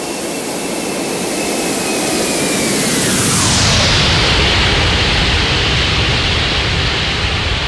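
Simulated ToLiss A330neo jet in X-Plane 12 roaring past in a cruising flyby, a loud steady broadband rush whose tonal whine sweeps downward as it passes, with no one talking.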